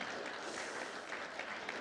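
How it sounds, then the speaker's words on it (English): Audience applause at a livestreamed talk, a short burst of steady clapping from a small crowd, fairly faint and even throughout. "Round of applause for my good sport here, Tim."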